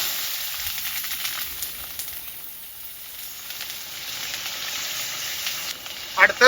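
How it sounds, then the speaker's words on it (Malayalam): Green chillies frying in hot oil with mustard seeds, giving a steady hissing sizzle that stays even throughout, with a few sharper crackles and pops toward the end. "അടുത്ത് പച്ചമുളക് ഇട്ടു."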